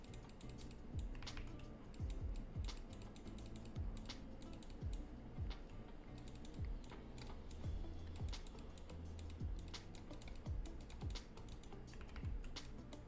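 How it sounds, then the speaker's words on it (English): Rapid, aggressive clicking of a computer mouse at a desk, sharp close clicks in an irregular, fast rhythm running steadily throughout, with no talking. "You can probably hear me aggressively clicking as well because I'm writing this by hand, like with a mouse by hand."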